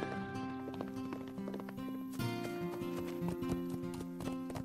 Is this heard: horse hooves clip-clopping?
yes